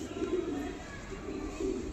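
A male pigeon coos softly in low, rolling murmurs, two faint calls nearby against a quiet background hiss.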